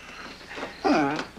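A dog held by someone, with a box placed over it for a family's disappearing-dog trick, gives one short, fairly loud whine that rises and falls, alone after a quiet moment.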